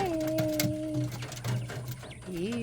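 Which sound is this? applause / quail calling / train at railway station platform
quail calling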